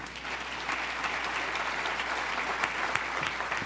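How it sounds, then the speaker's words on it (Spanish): Congregation applause at a church service, a steady wash of many hands clapping at moderate distance, continuous and unbroken, with no voices on top. "Denle un aplauso al Señor."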